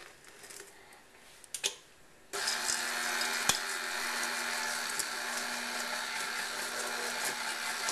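Stand mixer working granola and heavy cream into scone dough, switching on after a couple of quiet seconds with faint handling, then running as a steady loud whirring hum to the end.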